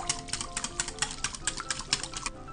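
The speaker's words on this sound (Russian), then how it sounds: "и хорошо перемешиваем" Egg, milk and water mixture seasoned with salt, pepper and khmeli-suneli being stirred in a bowl, giving a steady run of quick, light clinks and scrapes close by, about two or three strokes per second.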